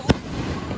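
A single sharp firework bang cracks at a distance during a 4th of July night, followed by a faint lingering rumble, with no talk.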